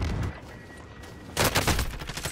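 Gunfire in a Call of Duty Plunder match: a quiet stretch, then a sudden loud burst of rapid shots that rattles on with sharp cracks for about a second.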